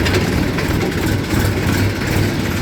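A tractor engine drones steadily in third gear while moving slowly through a village, a loud, close, continuous low rumble with no gaps.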